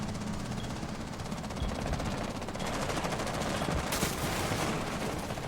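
Automatic weapons fire in the Rainbow Six Siege video game, rapid sustained bursts of gunshots rattling continuously at moderate level with a sharper crack near the end.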